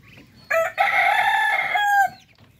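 A Darag native chicken, in a pen of two-month-old birds, gives a short cluck and then a loud, close, drawn-out crow lasting about a second and a half against a quiet background.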